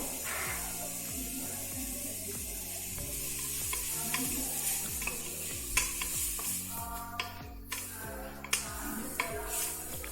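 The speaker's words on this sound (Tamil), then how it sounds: "ஸோ நான் வந்து டொமேட்டோஸ் ஆட் பண்ணிக்கிறேன்." Tomatoes sizzling in hot oil while being stirred for mushroom biryani, with a steady close hiss under rhythmic scraping and clanking strokes against the pan, and no speech.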